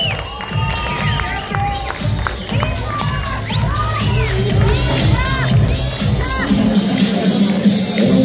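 Audience at a women's fitness competition on stage, cheering, shouting and clapping loudly and continuously throughout, with a steady crowd roar and shrill voices.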